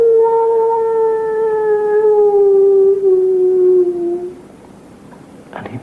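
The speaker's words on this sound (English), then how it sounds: "And in the distance, the howl of the werewolf." A long, sustained werewolf howl from a comedy sketch show's sound effect slowly slides downward in pitch for about four seconds before fading, followed by faint rustling.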